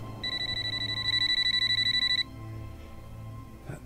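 A telephone rings in a steady pulsing electronic trill for about two seconds, fairly close and clear, then stops, leaving a quiet room hum behind.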